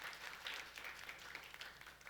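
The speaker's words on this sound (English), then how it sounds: "Please let's give her a round of applause." Audience at an AAAS HBCU making and innovation event applauding a speaker, a soft, steady wash of clapping heard from a distance and fairly quiet throughout.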